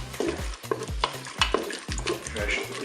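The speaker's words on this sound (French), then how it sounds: "Allez, maintenant je vais ajouter les oignons." Onions tossed onto hot veal in a Cookeo multicooker, sizzling close up while a spoon scrapes and stirs in a steady rhythm of repeated strokes, with no talking.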